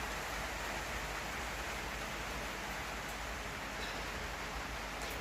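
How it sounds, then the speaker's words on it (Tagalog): Steady, dense rain falls outdoors on a cold December day, a constant broadband hiss with no breaks and a few faint drips standing out above it. "it's very raining"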